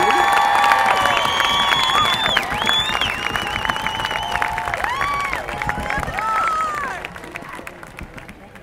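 Crowd applause and cheering with whistles and shouts greet a marching band and color guard at a Dublin, California field competition, a sustained roar that fades toward the end.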